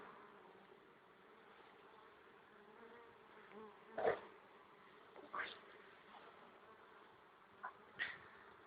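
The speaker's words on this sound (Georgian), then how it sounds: "ჭიოიანი ფუტკარი მევიდა." Honeybees buzz at their hive, some loaded with pollen: a soft, steady hum with a few louder swells as single bees fly close by, with no talking.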